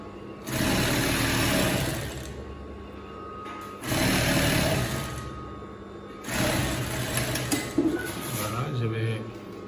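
A sewing machine stitches a dress in three distinct whirring bursts separated by short pauses, fairly close and loud, with brief clatters between the runs.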